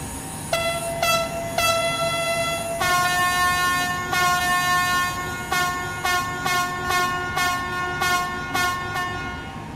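A train horn sounds from a high-speed train on the LGV Méditerranée line between Marseille and Avignon in Train Sim World 2. It gives repeated loud, sustained toots in a steady, evenly spaced pattern over constant rumbling rail noise, with no talking.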